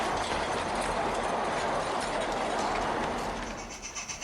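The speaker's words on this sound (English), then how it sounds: "a pair of 3D printed Gemeinde diesel locos, Diane and Dorothy, haul the first down sand train of the day" A pair of 3D printed Gemeinde diesel model locomotives hauls a down sand train toward a quarry on a light railway, giving a steady, fairly loud mechanical rumble and clatter that eases slightly near the end, with no talking.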